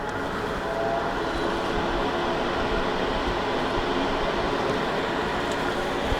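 A RENPHO HEPA air purifier's fan runs on setting 3, giving a steady, even whoosh of airflow that stays constant and fairly loud with no other sounds.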